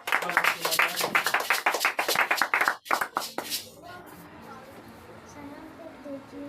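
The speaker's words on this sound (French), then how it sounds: "Acclamons la sœur Ruth." A Sunday church congregation claps in fast steady unison during a testimony time, loud and rhythmic for about three seconds before the clapping breaks off and quiet murmuring and a voice take over.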